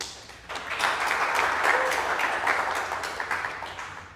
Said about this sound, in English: A little welcome round of applause, please.